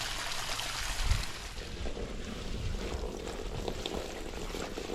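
Water pouring into a newly lined backyard garden pond through a small fountain, a continuous splashing, bubbling wash at steady moderate loudness with no voices.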